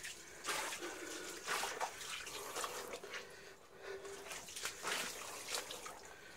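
Water runs and trickles inside a dark forest tunnel full of bats, a continuous splashing flow with swelling surges, moderately faint and echoing in the enclosed space, with no speech.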